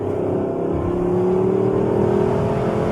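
A 2021 Lexus LC 500 convertible revs up, its engine note climbing steadily and close by in a loud, sustained drone without any speech over it.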